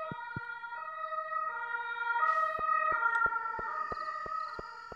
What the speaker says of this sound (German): Schon wieder Polizei oder Krankenwagen, der hier dran vorbeifährt.